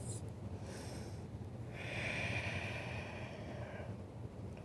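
Slow, deep nasal breathing during a yoga session, one long soft exhale drawn out over a few seconds, close and faint against a quiet room.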